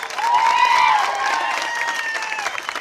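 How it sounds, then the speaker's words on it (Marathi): A crowd at an outdoor political rally claps and cheers in a sustained burst, with voices and whistles rising over the applause. "जोरदार टाळ्या वाजवा."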